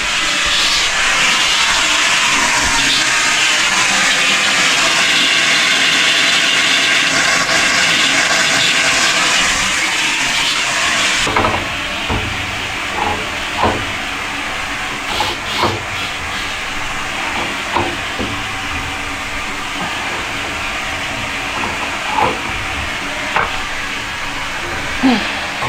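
A sink faucet lets out a loud, steady hiss of air pushed from the water pipe. The rush then drops and breaks into irregular sputters and spits.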